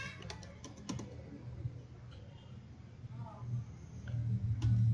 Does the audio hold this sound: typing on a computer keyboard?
yes